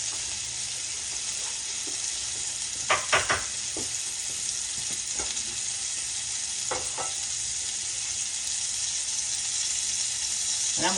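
Sweet potato fries sizzle steadily in a greased pan on the stove, a constant broadband frying hiss with a few brief clatters and stirring knocks around the middle, close and fairly loud throughout.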